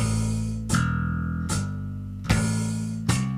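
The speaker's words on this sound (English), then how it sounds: "Now, say I were playing a bass line." Electric bass line in 3/4 time, four sustained low notes struck roughly every 0.8 seconds with clear attacks and ringing harmonics, played close and alone.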